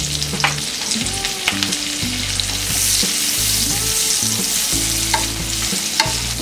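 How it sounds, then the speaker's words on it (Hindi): Chopped onions fry in a pan for a white sauce pasta, giving a steady loud sizzle with intermittent scraping and clinking as they are stirred. "अनियंस थोड़े सॉफ्ट होने तक हम इसे फ्राई करेंगे।"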